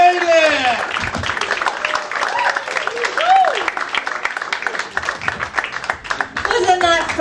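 A comedy club audience claps on a Monday night while a host speaks loudly over it. The clapping is moderate and continuous beneath the close talking.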